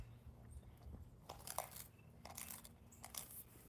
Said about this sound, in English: It's just a dog eating something.